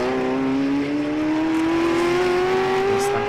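Classic race cars, including a 1970s naturally aspirated 3-litre Porsche RS, roar past in a close fight for third at the Jarama Classic, with one loud, steady engine note rising in pitch throughout as it accelerates.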